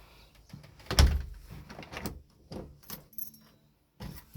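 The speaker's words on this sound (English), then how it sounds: "Let's lock the door." A key turning in a new barrel lock on a uPVC door, giving a few close metallic clunks and jangling clicks in short bursts with brief pauses between them.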